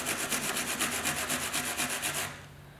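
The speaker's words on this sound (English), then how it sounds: "Now the wire brush does an okay job." Wire brush scrubbing a radiator clean before soldering, a fast rhythmic back-and-forth scratching of about a dozen close strokes that stops abruptly.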